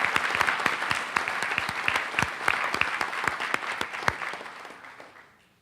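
Audience applause for students at a school board meeting, a dense patter of clapping with sharp individual claps standing out, steady for several seconds before tapering off at the end.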